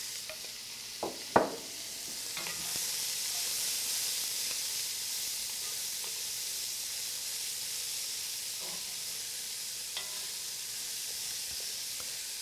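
Vegetables for jambalaya sizzle and hiss steadily in a hot pan, with a few sharp scrapes and clacks of a spoon stirring near the start and occasional softer stirs after.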